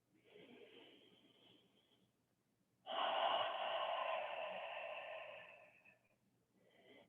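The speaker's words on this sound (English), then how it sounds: "And exhale through your mouth." A long, slow exhale through the mouth during a gentle yoga flow: one soft, airy breath lasting about three seconds, near and clear, after a quieter inhale, with no talking.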